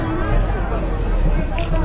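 A big crowd of devotees packs the Datta temple at Wagle Estate, Thane, during Datta Jayanti, making a loud, steady babble of many voices. Someone talks over the noise close by.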